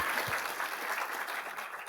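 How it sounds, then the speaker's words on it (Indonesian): A church congregation claps for God after a new regional pastor and his wife are installed, a steady, fairly quiet wash of many hands that carries on evenly throughout. "Tepuk tangan buat Tuhan kita"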